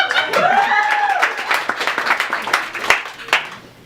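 Audience applause at a live spoken performance, a burst of clapping that fades out, with voices and a brief tonal sound mixed in at the start.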